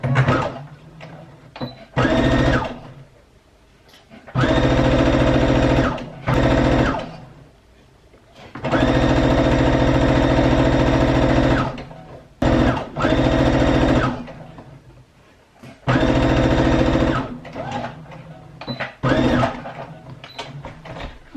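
A sewing machine stitches fabric for a scrunchie in close, loud bursts of fast whirring, stopping and restarting several times, including short back-and-forth runs at the start and end of the seam.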